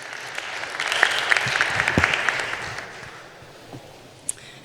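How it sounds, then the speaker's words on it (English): A conference audience at re:publica 2019 applauds a speaker, steady clapping swelling then fading over several seconds, with a lone louder clap near the end. "A big round of applause for Friederike Kercher, please"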